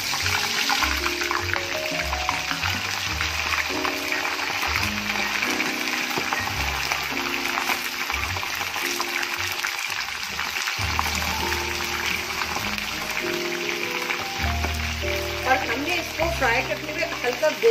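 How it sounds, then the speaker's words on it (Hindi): Chicken deep-fries in oil in a pan, a steady close sizzle and crackle running throughout, with a low background hum and occasional stirring. "एक ऑयल में डीप फ्राइंग के लिए हमने पैन में जो है वो ऑयल ले लिया है।"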